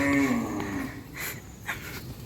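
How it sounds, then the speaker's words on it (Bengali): A cow that has broken loose on a cattle farm lets out one close, loud moo that fades into soft rustling and shuffling with no talking. "গরু ছুটে গেছে গরু।"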